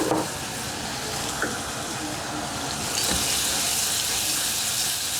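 Dan dan noodle sauce with soy sauce sizzles and bubbles in a hot pan while being stirred, a steady loud hiss with a few scraping clicks and a brief louder splash partway through.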